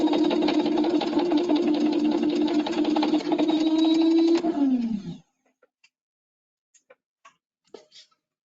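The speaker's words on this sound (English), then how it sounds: "I'm going to start the motor, I'm going to close the breaker" An electric motor hums steadily with a busy mechanical rattle, then winds down and stops abruptly partway through, leaving near silence broken by a few faint clicks.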